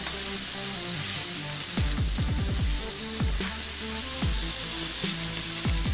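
Filet steak searing in a hot pan for a Madeira-sauce lunch: a steady, loud sizzle with crackling pops and sharp spits scattered throughout, no voices.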